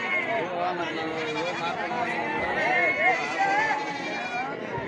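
Sheep bleat repeatedly at a busy sheep market in Amingad, Karnataka, under continuous crowd chatter and haggling voices.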